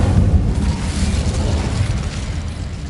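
An Incendio fire spell cast in Hogwarts Legacy on PS5, a loud, steady roaring blast of fiery rumble that holds at close range for a few seconds.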